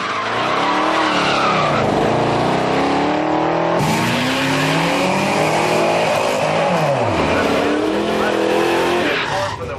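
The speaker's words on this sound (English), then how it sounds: "The tires just scrabbling for traction." Muscle car tires squeal and scrabble for traction amid roaring, revving engines in a drag race setting, with sweeping pitch changes, loud and continuous, while a voice talks over the noise.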